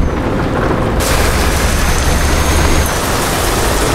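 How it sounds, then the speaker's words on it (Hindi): Heavy rain in a bus-driving video game on dangerous Indian roads pours in a loud, constant wash of noise, intensifying after a moment into a dense, steady roar with a low rumble underneath. "कितनी बारिश होने लग गई"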